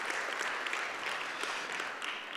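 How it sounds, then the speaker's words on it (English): An audience at an evening ethics talks event gives a dense, steady round of applause, fairly loud and continuous throughout, with no talk over it. "Let's give them a big round of applause"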